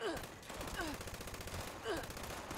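A weapon firing repeatedly in the video game Fallout 76, a steady stream of rapid shots over game sounds, fairly quiet overall.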